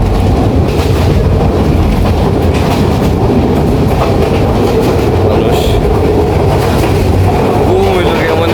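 A train travels from Sylhet to Chittagong with a steady, loud rumble and rattle heard from inside a carriage, continuous throughout, with voices faintly mixed in.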